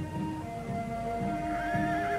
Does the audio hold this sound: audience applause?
no